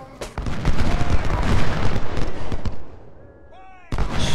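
Cannon and artillery fire in Ultimate General: Civil War at Gettysburg: a loud, rumbling barrage of overlapping booms. It thins out briefly near the end, when a voice is heard, and then another blast follows.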